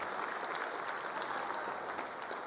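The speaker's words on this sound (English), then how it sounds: "Give DG a very big hand of applause" An audience applauds the Director-General at a Department of Basic Education matric results announcement, a steady, dense wash of clapping that fills the whole stretch at moderate distance with no voices on top.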